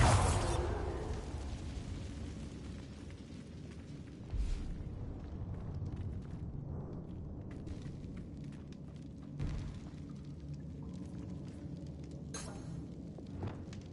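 A Bombarda blasting spell going off in a Harry Potter video game: a loud, close burst at the start that rolls off into a long rumbling tail, with a few smaller thuds and bursts following over a steady low roar.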